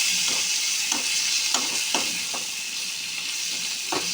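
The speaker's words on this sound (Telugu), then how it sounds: "శుభ్రంగా కడిగి పెట్టుకున్న కార్జాన్ని ఇందులో వేసుకోవాలి వేసుకొని బాగా కలుపుకోవాలి నూనెలో ఫ్రై అయ్యేటట్టు" Chicken liver being stirred and fried in hot oil, a constant bright sizzle broken by a series of spoon scrapes and stirring strokes roughly every half second, no speech.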